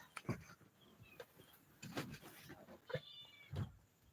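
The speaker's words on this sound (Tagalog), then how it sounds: "this is my cat" A cat meows several times in short, separate calls, faint and close, with quiet background noise between them.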